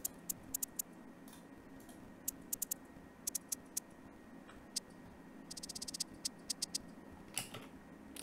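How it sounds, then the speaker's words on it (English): Bouncy hi-hat pattern in an ambient beat, crisp ticking hits in an uneven, skipping rhythm with a quick run of rapid rolls near the middle, fairly faint over a low hum. "It's making some like cool bouncy pattern that sounds like this."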